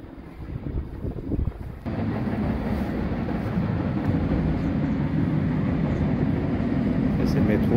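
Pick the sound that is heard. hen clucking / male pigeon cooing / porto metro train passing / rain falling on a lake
porto metro train passing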